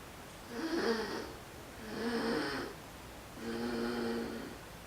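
Three slow, raspy breaths with a buzzing throat vibration, like deliberate snoring, each lasting about a second with brief quiet gaps between them, as the epiglottis vibrates.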